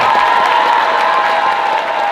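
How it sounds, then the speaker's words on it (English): Loud, dense audience applause mixed with cheering and whoops from a crowd at a middle school band concert, sustained without a break and filling the whole clip. "I need a round of applause if you're ready to hear some great music."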